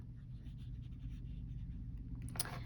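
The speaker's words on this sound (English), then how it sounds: "I'm also going to write it here" Jinhao 82 fountain pen scratching softly across paper with Sailor Shikiori Yozakura ink, faint close strokes over a low hum, ending in a brief brighter scrape.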